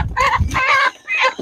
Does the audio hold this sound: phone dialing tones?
no